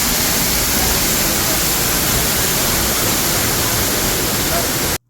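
Loud continuous roar of the waterfall in the Canada pavilion at Epcot, a broad steady rush of falling water heard close, then cutting off abruptly at the end.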